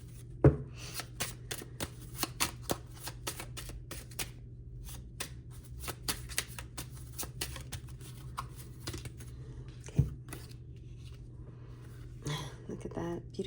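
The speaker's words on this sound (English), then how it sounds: "turn those cards over" Tarot cards are turned over and laid down one after another, producing soft close-up flicks and taps spread through a quiet room with a low steady hum beneath.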